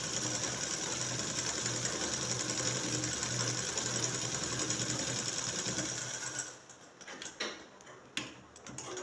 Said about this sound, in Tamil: காலர் பட்டி ஓரமாக தைக்கிறோம். ஏற்கனவே தைச்ச தையல் மேலேயே தைக்கிறோம்.